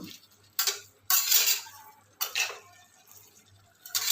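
A metal spoon stirs chicken with spices and fenugreek leaves in a pot, making four separate bursts of clinking and scraping against the pot's sides, with short quiet gaps between the strokes.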